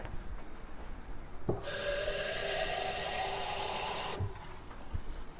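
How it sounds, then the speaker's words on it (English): Water pours steadily into a pot of spaghetti meat sauce for about two and a half seconds, a loud hissing stream that starts and stops abruptly, with faint clinks before and after. "So I'm going to add a little bit more water."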